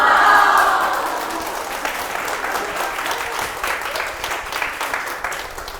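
Audience applause in a lecture hall at a televised talk, starting loud and dense then settling into a steady, fading wash of clapping from many hands with no voices.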